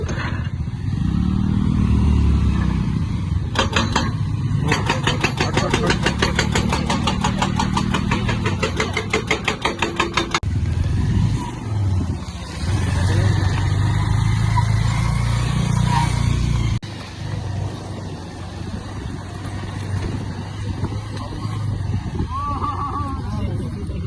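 A motorbike ridden on a rough mountain road toward Jumla, Nepal, gives a continuous close engine drone with rhythmic firing pulses and shifts in pitch. People talk over the riding noise throughout.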